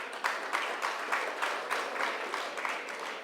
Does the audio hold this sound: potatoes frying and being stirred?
no